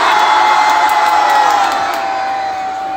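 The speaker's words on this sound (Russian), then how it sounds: "3-4 и кричим ура!" A large crowd at a Victory Day celebration in Nakhodka cheers and shouts hurrah together, a loud sustained roar of many voices that fades slightly toward the end.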